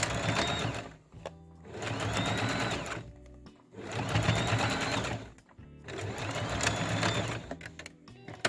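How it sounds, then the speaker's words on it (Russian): A sewing machine topstitches fabric about 3 mm from the edge for a stuffed elephant head toy, running in three close, steady bursts separated by short pauses. "я делаю небольшую отделочную строчку практически в край, буквально 3 миллиметра"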